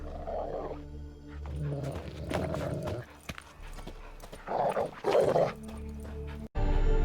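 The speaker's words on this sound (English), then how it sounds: "Just beware of the dogs" Dogs bark in The Witcher 3 in several short bursts amid game ambience and footsteps, moderately close, with quieter gaps between the outbursts.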